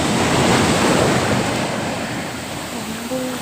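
Sea waves wash steadily onto the shore beside a bridge and boats, a broad continuous surf roar that swells and eases slightly, with wind buffeting the microphone throughout.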